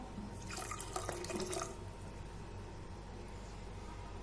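Chilled water pours into a basil seed Rooh Afza drink, a splashing stream of liquid for about a second and a half that then fades to a faint background hum.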